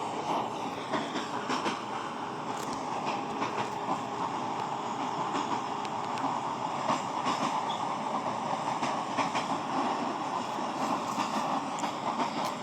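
Moving train with steady rumbling and rhythmic clickety-clack of wheels on rail joints, heard as a continuous even roar that holds at the same level throughout, with no speech.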